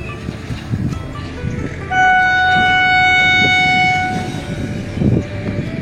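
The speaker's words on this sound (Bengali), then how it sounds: "দেখো দূরে ট্রেন চলে যাচ্ছে।" A train rolls by at a distance, its steady rumble joined midway by a long horn blast with a clear sustained tone, while wind and faint voices sit underneath.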